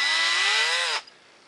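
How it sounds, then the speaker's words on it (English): A power drill with a number 7 bit bores attachment and set screw holes in a cast brace, a steady whining whir that rises slightly in pitch for about a second, then stops abruptly. "You're going to want to drill out all of your attachment holes and set screw holes."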